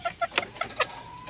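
A young chick makes short, high crowing attempts, several thin squeaky bursts close by in quick succession, with rustling noise between them.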